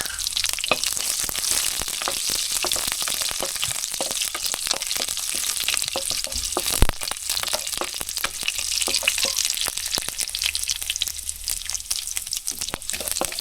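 Onion sizzles steadily in hot oil with mustard seeds in a pan for Tamil egg gravy, a continuous dense frying hiss with scattered crackles and pops, close and fairly loud, no voices.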